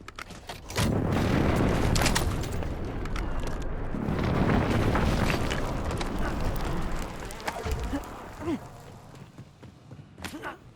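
Airstrike explosions in Warzone, a run of heavy booming rumbles rolling for several seconds, then fading into scattered smaller thuds and crackles.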